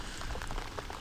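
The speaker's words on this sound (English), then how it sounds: "Why is it raining again?" Steady rain patters on a surface outdoors at sunset during a fishing outing, a dense, even hiss of drops falling continuously with no speech.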